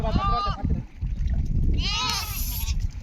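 Sheep bleat loudly while being washed on a farm, with two clear cries close by amid people talking and splashing water.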